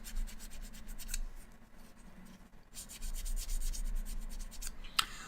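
Sanding a 1/72 Hasegawa S-3 Viking plastic model by hand, with quick rhythmic scraping strokes in two bursts separated by a short pause, close and fairly quiet, with no talking.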